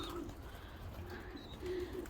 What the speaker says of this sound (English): So now the bird's going to come out. We've got two up on that roof there.